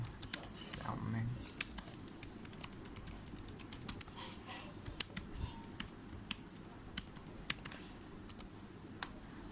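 Fingers type a name and password on a computer keyboard, with quick irregular key clicks in bursts. The sound is close but quiet, and a voice speaks over it.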